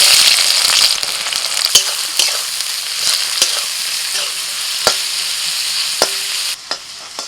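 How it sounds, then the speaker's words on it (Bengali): Onions frying in hot mustard oil with sugar in a wok, a loud steady sizzle with a few sharp clinks and scrapes of stirring, no talking. "এই সময় পেঁয়াজ দিয়ে দিচ্ছি"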